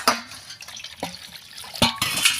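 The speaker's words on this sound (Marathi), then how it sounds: "सांबार पण धुवून घ्यायचा आहे." Coriander leaves are swished and rinsed in water in a vessel, with splashing, dripping and a few sharp clinks of the pot, close by and without talk.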